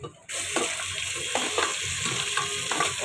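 Onions and tomato fry in a pan, a sudden loud sizzle bursting in after a brief quiet moment and holding steady, with light stirring taps through it.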